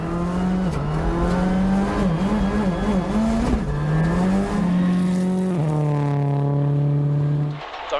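A rally car, its engine struggling to make boost, drives a stage at the 2015 Rally of Whangarei: a loud, close engine drone holds steady, then wavers and shifts pitch through gear changes without pause.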